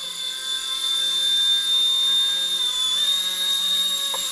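A small Motion RC Mini Consuela radio-controlled helicopter spools up from idle toward takeoff, its high electric whine steady and close, rising slightly in pitch near the end, with no voices.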